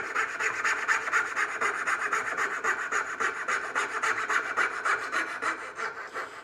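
A hand saw cuts a houndstooth dovetail in wood, giving a continuous rapid rasp of fast back-and-forth strokes, close and loud with no pauses.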